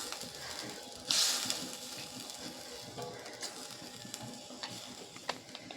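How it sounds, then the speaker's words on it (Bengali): Spice paste for a rohu fish-head kalia being stirred with a bowl of water in a pan: a brief loud hiss near the start, then a steady soft sizzle with light scraping stirs throughout. "এই যে মিক্সিটা ধুয়ে 1 বাটি জল দিয়ে দিলাম আমি। জলটা দিয়ে ভালো করে নেড়ে নেব।"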